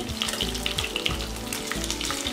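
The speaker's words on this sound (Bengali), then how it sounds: "খুব ভালো করে ভাজা হয় ভাজা হয়ে গেছে মাছগুলো" Taki fish frying in hot oil give a dense, steady sizzle with crackling pops, close and continuous.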